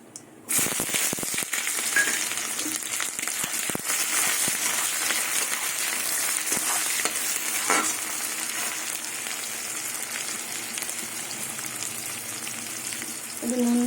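Onions dropped into hot oil already seasoned with whole cumin, dried red chillies and bay leaves, a sudden loud sizzle that settles into a steady close crackling fry, with occasional clicks of stirring.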